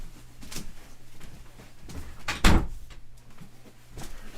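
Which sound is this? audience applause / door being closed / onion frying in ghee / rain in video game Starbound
door being closed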